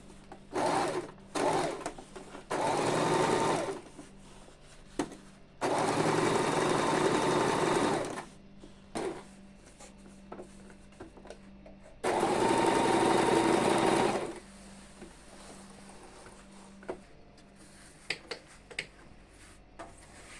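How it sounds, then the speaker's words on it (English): Sewing machine stitching mikado fabric, running in three sustained bursts of steady whirring separated by quiet pauses with small clicks and handling noises, close up and without talk. "So from there, I will adjust my machine to sew it loosely."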